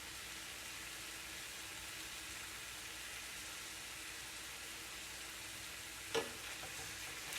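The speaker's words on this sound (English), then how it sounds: "If you have it a little lower, then there's not so much spattering." Ground meat fries in a pan for taco pasta, a steady, faint, even sizzle with light spattering and one sharp clink near the end.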